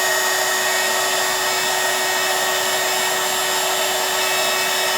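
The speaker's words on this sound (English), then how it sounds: "let's grab the heat tool, and then we're going to heat this up again from underneath" A craft heat tool blows hard and continuously, heating a card from underneath with a steady, loud, fan-like whoosh and a high whine that holds level from start to finish.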